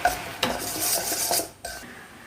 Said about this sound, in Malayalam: ഇത് അരിപ്പയ്ക്കകത്ത് ഇത് അരിക്കുവാണേ